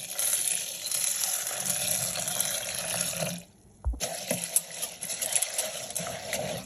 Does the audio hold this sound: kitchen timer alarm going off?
no